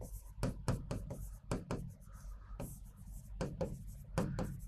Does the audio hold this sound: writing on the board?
yes